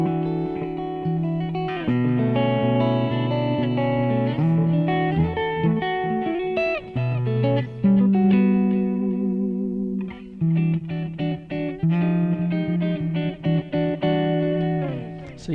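Electric guitar on an amplifier's clean channel plays a flowing melodic passage of picked single notes and chords, with light effects and reverb, steady and close with no talking over it.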